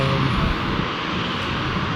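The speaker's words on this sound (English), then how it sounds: "I can hear her engines revving up." Steady broadband roar of airliner jet engines revving up, loud and close, holding a continuous rumble with no voices over it.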